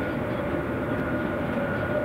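Steady low rumble inside a moving passenger train travelling from Oslo to Bergen, a continuous close drone of wheels and carriage noise with no voices.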